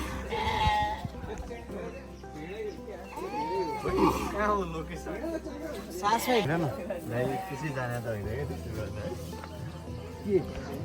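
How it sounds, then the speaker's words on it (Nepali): Sheep bleating repeatedly in rural Rukum West, Nepal, wavering calls overlapping one another, close and fairly loud, with people chattering in the background. "करा गएर नि त यसै करा नि भेडा"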